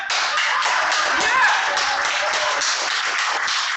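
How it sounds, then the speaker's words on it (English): An audience at an event claps with sharp, uneven hand claps in a continuous round, fairly close and loud, with some voices mixed in. "Give a big applause to Ma'am Harpreet Dutt"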